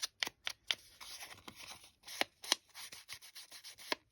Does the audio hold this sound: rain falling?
no